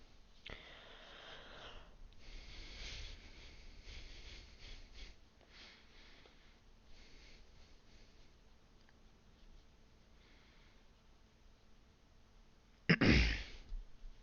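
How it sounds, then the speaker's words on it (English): A single loud throat clear bursts out near the end, close to the microphone, after a stretch of quiet background sound. "I just had to clear my throat."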